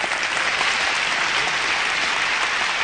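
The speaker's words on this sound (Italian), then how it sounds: "Un applauso a Enrico Maria che ha risposto esattamente" Steady, dense audience applause at an Italian TV quiz show, continuous and fairly loud across the whole stretch with no voices on top.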